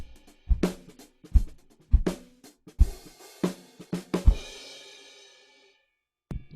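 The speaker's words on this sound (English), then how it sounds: "maybe the song has a little bit of a swing to it" A drum kit plays a simple swing shuffle groove, close and fairly loud, with punchy kick and snare hits in a lilting uneven rhythm and crashing cymbals. A long cymbal decay fades to silence before a final hit.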